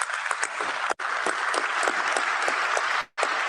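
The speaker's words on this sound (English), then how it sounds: "Let's give him another round of applause, please." Steady crowd applause fills the room at the 76th FIFA Congress in Vancouver, clapping dense and continuous with two brief dropouts before it resumes.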